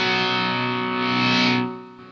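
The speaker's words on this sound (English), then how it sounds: "The idea with slow gear is that it sort of swells in a guitar sound" Electric guitar run through the slow gear effect of a Boss GT-8 multi-effects unit: one sustained distorted chord swells in smoothly, holds loud and close, then fades away near the end, with no talking.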